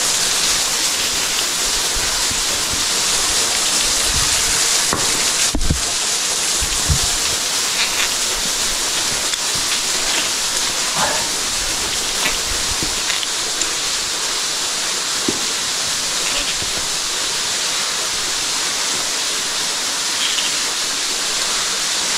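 Steady, dense roar of a waterfall rushing inside a cave, filling the space, constant and enveloping, with a few faint knocks and clatters underneath.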